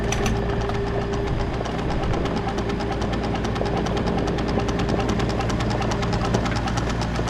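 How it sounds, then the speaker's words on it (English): A 1935 Allis Chalmers UC tractor engine cranks over steadily without catching, a continuous loud mechanical churn and knocking that runs unbroken for several seconds. "All right, we're going and trying to start it."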